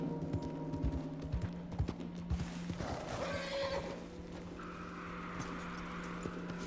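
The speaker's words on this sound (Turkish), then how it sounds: "Atımızın cinsi Türkmen atı arkadaşlar. Oyundaki en değerli ikinci at." A Turkmen horse in the game Red Dead Redemption 2 neighs loudly while its hooves clip-clop in an uneven rhythm, then the sound settles into a steady hum as the hoofbeats fade.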